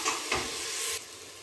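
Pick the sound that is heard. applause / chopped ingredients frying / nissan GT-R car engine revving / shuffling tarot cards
chopped ingredients frying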